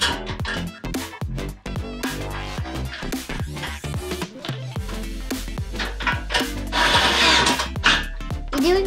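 A power tool whirs in short repeated bursts while a hitch is bolted onto a 10th-generation Honda Civic, with clanks and handling noises between the bursts, close and loud.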